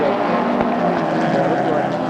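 Touring car engines drone steadily and loudly on Barbagallo Raceway at a 1995 meeting, a sustained mechanical hum under a commentator's voice.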